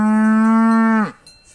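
A single loud, close cow moo, held steady for about a second before cutting off, in a mountain valley setting in Val di Scalve near the Gleno dam.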